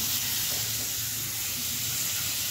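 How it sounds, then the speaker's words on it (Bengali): Tilapia fish fry in hot oil in a pan, giving a steady, close hiss and sizzle that holds constant throughout without pause. "এই যে মাছ ভাজা বসালাম, জাস্ট তেলাপিয়া মাছ"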